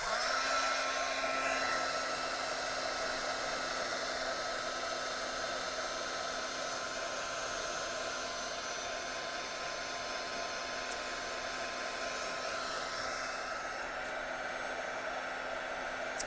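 A heat tool blows hot air over a mixed media journal page, a steady close whooshing hiss with a constant motor whine that holds evenly from start to finish, alone.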